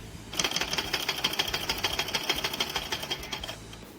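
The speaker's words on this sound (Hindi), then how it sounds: "इस पर सिलाई करनी है।" A sewing machine stitches a kurti, its needle running in a fast, even mechanical rhythm of repeated clacks at close range, steady for several seconds before stopping, with no talking.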